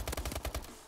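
Shooting video game gunfire: a quick rapid burst of about seven sharp shots in even rhythm, fairly faint, fading into a short tail with no talking.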